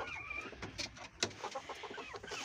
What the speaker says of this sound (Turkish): Arkadaşlar şimdi de şurada görmüş olduğunuz gibi bıldırcınlarımız var.